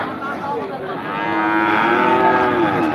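A single loud, drawn-out moo from a nearby crossbred cow at a cattle market, rising and holding for a couple of seconds over faint background noise.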